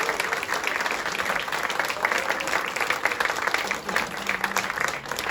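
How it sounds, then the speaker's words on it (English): An audience at an Irish music festival concert in Gothenburg claps and applauds steadily for several seconds, a dense sustained roar of hands with some faint voices mixed in. "so I could get a big round of applause"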